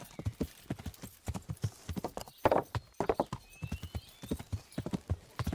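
Steady clip-clop of horse hooves trotting at a quick, even rhythm, fairly close, with a brief whinny partway through, in the video game Kingdom Come: Deliverance.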